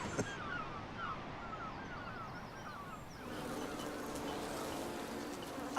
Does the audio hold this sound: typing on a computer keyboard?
no